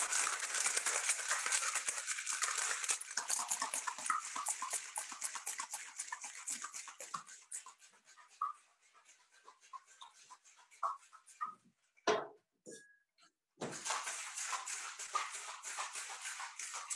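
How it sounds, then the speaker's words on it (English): A cocktail shaker with ice shaken hard for a martini, a dense rapid rattling that runs for several seconds, thins into sparse knocks, briefly stops and then resumes vigorously, heard close with no talk. "So we've shaken that up"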